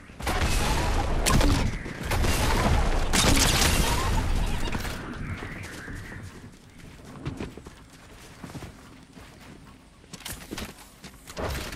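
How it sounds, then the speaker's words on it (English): Snowball launcher shots in a Christmas-themed Fortnite match come as a run of loud, dense bursts over the first few seconds, then quieter scattered pops and game noise that swells again near the end. "I'm really trying to just get them with this snowball launcher right now."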